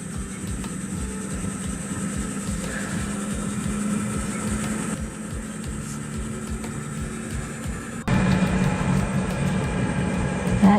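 An Espar S2 D2 diesel heater in a van runs through its startup with a loud, steady rushing roar. Partway through, the roar steps up abruptly and stays louder to the end.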